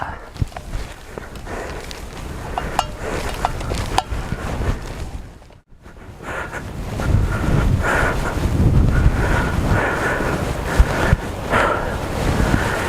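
Strong desert sandstorm wind buffets the microphone in steady broadband gusts, with one brief lull midway before the roaring blast returns, loud and close throughout.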